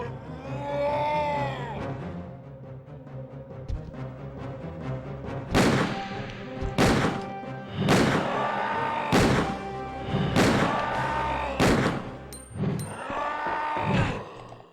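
Gunshots fired at an enemy in the PlayStation Resident Evil game: seven or eight loud, sharp shots spaced about a second apart, ringing over steady background music.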